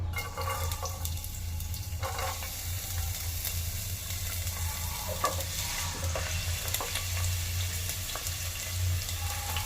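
Garlic frying in sunflower oil gives a steady close sizzle with crackles, and a stirring utensil scrapes the pan now and then.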